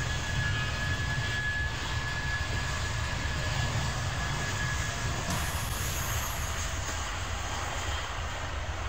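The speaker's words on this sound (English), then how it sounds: "Wow, you can hear the aircraft engines." Aircraft engines roar near an airport terminus platform in a Train Simulator 2015 scene, a steady, broad jet whine and rumble held at constant level with a thin high tone, no talking.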